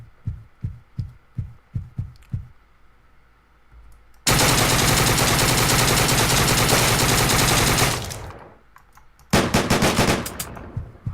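Gunfire in the video game Deadbolt: a rhythmic series of single shots, then a loud unbroken burst of rapid automatic fire lasting several seconds, a pause, and another sustained burst of rattling shots.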